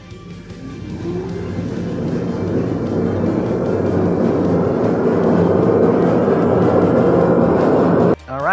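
CYCROWN dual battery electric bike at full throttle on a motorcycle dyno, a loud whirring roar that rises steadily and holds, then cuts off abruptly near the end.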